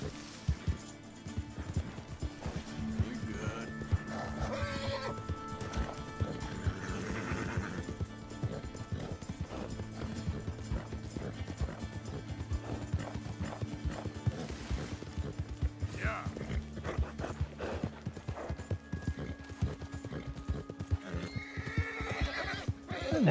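A dapple dark gray Hungarian Halfbred horse is ridden across open country in the Red Dead video game, with steady, close clip-clop hoofbeats going the whole way, brief neighs, and a voice talking now and then over the riding.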